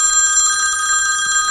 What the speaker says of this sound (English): that'll be the phone then.